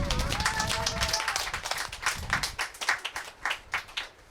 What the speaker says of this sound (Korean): 한번 큰 영광의 박수, 하나님께 영광의 박수